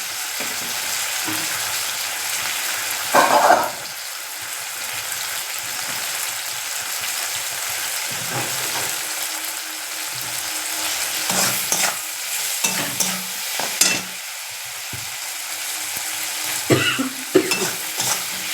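Tomato frying in a pan, a low sizzle punctuated by several distinct spatula scrapes and stirs, some louder than others, heard up close without speech.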